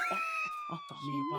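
An ambulance siren passing, a steady high wail whose pitch sinks slowly as it goes by, sounding under people talking nearby.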